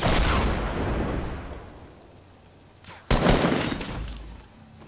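Gunfire in a shooter video game, a dense burst of shots fading out, then a sharp loud blast and another rattling volley close by.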